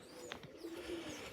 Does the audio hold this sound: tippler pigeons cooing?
yes